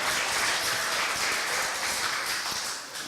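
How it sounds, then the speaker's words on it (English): An audience at a live poetry reading applauds, a steady wash of many hands clapping at close range that holds for about three seconds and then thins slightly at the end, with no voices heard. "People are groaning, applauding."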